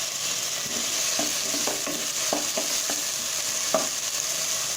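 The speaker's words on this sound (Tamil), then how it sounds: "தக்காளி நல்லா வதங்கணுங்க." Tomatoes with salt and curry leaves sauté in hot oil in a pan, a steady sizzle running throughout with scattered soft stirring knocks, close and alone with no talk.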